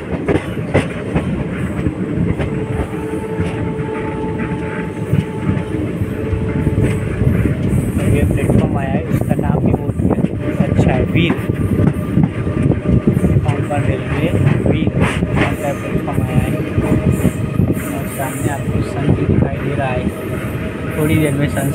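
A train rumbles along the Konkan Railway tracks with rhythmic clattering and wind noise, loud and close, while a person talks over it.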